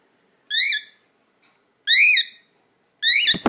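A cockatiel whistles three loud, close rising phrases with short gaps between them, followed at the end by a brief rustle or scrape.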